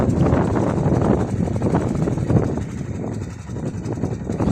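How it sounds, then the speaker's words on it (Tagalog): Wind rushes and buffets the microphone by the Pansipit River near Taal Lake in a loud, continuous roar that swells and eases slightly. "Hangin."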